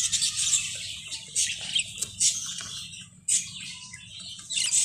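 A caged budgerigar, a blue male in a new cage setup, gives repeated bright chirps and warbling trills in short bursts, close and fairly quiet, with no talking.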